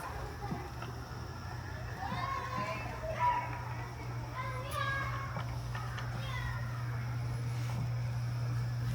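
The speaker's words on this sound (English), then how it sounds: "Sorry, there's kids playing in the background." Children playing in the distance, faint shrieks and calls drifting in under a steady low hum and the sound of a nearby voice.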